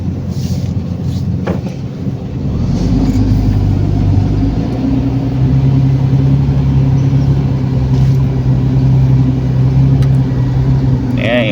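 Heavy road traffic crawling along MacArthur Highway near Santa Rita, Tarlac: a steady low engine rumble and idling vehicles close by, with a brief clunk early on and the drone holding level throughout.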